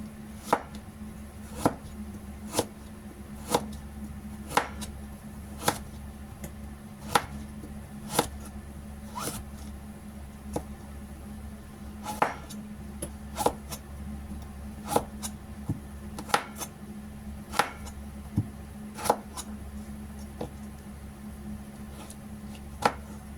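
Steady knife chopping of boiled ingredients for Thai rice soup on a cutting board: close, sharp knocks at a fairly even rhythm throughout, with no talking.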